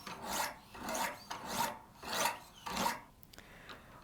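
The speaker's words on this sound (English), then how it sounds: "we'll use again our 2 grit diamond stones, and we're going to do 20 alternating strokes" A practice knife is sharpened with diamond stones on a Wicked Edge GO WE60 precision sharpener, giving five close, evenly spaced rasping strokes at a steady rhythm with no talking.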